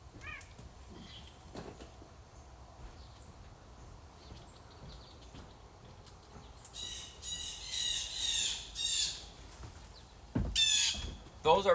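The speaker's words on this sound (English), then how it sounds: "That sound right there are blue jays. That screeching bird." Blue jays screech in a Michigan outdoor fishing spot, loud harsh calls bursting out in the later half after a quieter stretch of faint background sound.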